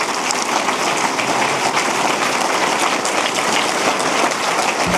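An audience at a city State of the City address applauds county supervisors, steady dense clapping from a large crowd that holds evenly throughout.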